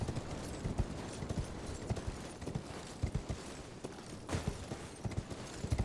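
A horse's hooves clip-clop in the video game Elden Ring, a quick, rhythmic series of muffled thuds over a low ambient rumble, moderately quiet and without speech.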